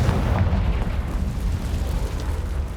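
A Confringo blasting spell goes off in the Hogwarts Legacy video game, a loud, dense rumbling explosion with a heavy low-end roar that sustains over the whole stretch.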